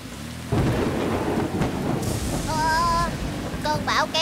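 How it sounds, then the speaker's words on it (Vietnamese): Loud thunder and pouring rain from a storm in an animated cartoon about rescue vehicles, a dense wash of rain with a thunder crash, then short whining tones near the end. "Cơn bão kéo vào thị trấn rồi."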